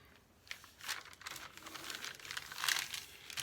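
Paper bag being folded for a shabby-style craft piece: a run of crisp crinkles and creases close up, several separate folds across the clip with no talking.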